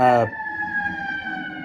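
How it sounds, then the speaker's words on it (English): Sirens wail in a steady, sustained tone with layered harmonics, holding level and fairly loud after a brief burst of voice at the start. "we were hearing the sirens"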